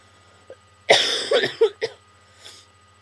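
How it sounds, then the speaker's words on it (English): A single harsh cough bursts out up close, followed by a few smaller rasping coughs and a faint breath trailing off. "And I got this really bad cough"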